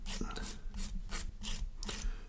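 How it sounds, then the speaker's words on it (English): A fine sanding stick rasps against a plastic model kit part, about five even back-and-forth strokes, close and steady. "just go around with a fine sanding stick just to get rid of the last bits"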